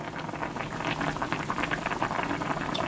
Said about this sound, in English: And this is boiling like crazy.